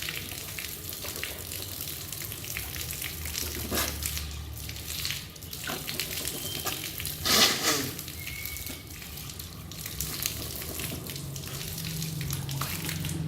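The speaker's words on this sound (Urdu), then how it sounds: "اب ہم ناک اور منہ میں ایسے پانی چڑھائیں گے۔" Water runs and splashes while the mouth and nose are rinsed during wudu, a steady tap flow with bursts of splashing and gargling-like sloshing close by.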